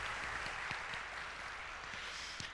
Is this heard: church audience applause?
yes